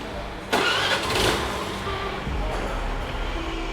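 A hybrid scooter's petrol engine starts up in Bengaluru, a sudden burst at about half a second settling into a steady close idle hum for the rest of the short stretch.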